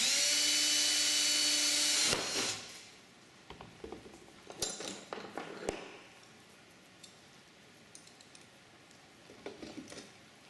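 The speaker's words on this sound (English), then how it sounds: "we will then once again drill through the 1/8 inch holes all the way through" A high-pitched drill whines loudly for about two seconds, drilling through 1/8 inch holes in aircraft gussets, then stops, followed by scattered clinks and handling noises.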